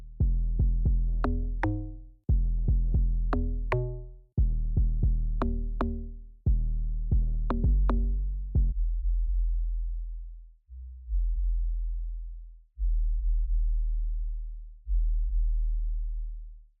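Low end soloed from a mix with dynamic EQ, a booming bass line of repeated notes, some with bright clicky attacks, then only the deep sub-bass notes at about 37 hertz, each ringing and stopping in turn.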